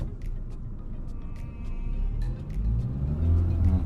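A car engine revs up with a low, rising rumble as the accelerator is pressed, with faint clicks and no talking.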